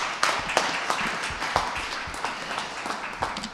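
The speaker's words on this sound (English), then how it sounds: "I'll wait for you to clap." Audience applause at a mayoral announcement of community funding, steady dense clapping from a crowd, with a few louder individual claps standing out and no clear voices over it.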